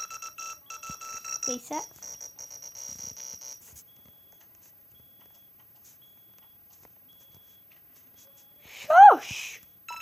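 A fire alarm panel gives a run of rapid high beeps for a few seconds, then falls quiet before a short voice cuts in near the end.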